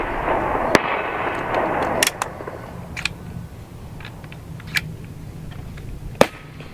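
Several sharp, loud cracks from .50 caliber air rifles fire at irregular intervals, each a crisp snap over steady outdoor background noise, with one especially strong shot near the end.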